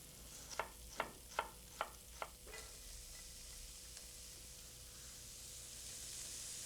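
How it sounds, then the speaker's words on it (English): Shallot fried in a thin film of fat in a pan, beginning with a few distinct stirring clicks and scrapes, then settling into a soft, steady sizzle that grows slightly toward the end; quiet and close, with no talking. "just a little film of it to fry my shallot"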